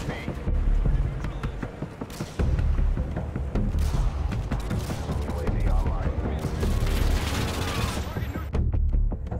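Assault rifle gunfire from Call of Duty: Modern Warfare 2 (2009), loud, dense bursts of automatic fire that run nearly continuously, with brief pauses and heavy low-end booms between volleys.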